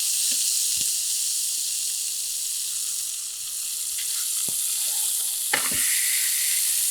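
Sankara fish fries skin side down in a hot pan with a steady, close sizzle and hiss, broken by a few faint clicks and taps.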